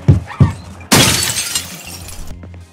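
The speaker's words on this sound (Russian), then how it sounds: "Звуки разбитого стекла стали громче." Glass shattering in the survival game Project Zomboid, a loud sudden crash of breaking glass after two soft thuds, with the tinkling debris trailing off over about a second and a half.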